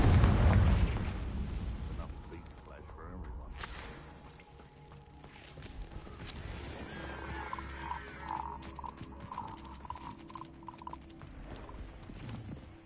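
Spell combat in Hogwarts Legacy on PS5: a loud magical blast opens, followed by whooshes, cracks, and a run of bright, rhythmic tonal pulses, while a character calls out spell incantations.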